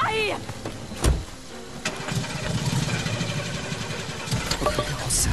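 A car engine in Friday the 13th: The Game starts and then runs at a low, steady rumble, heard under frequent shouted speech and game sounds.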